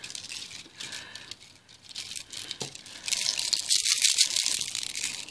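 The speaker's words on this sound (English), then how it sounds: "Make a delightful sound when you're wearing it, when it clicks together." Beads of a long beaded necklace click and rattle together, light busy jangling that grows louder and denser in the second half.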